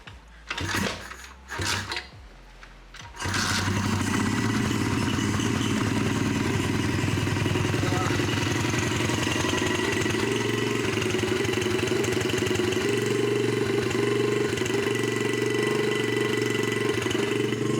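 A pit bike engine is kicked over a few times with sharp clunks, then catches and settles into a steady, close idle with a rattly, buzzing mechanical tone; the carburetor needs cleaning.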